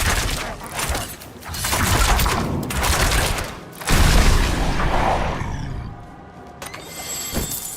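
An explosion in the action game Diablo 4 lands as a heavy boom among dense crackling blasts and rumbling gunfire-like bursts, loud and continuous, with a second big impact midway.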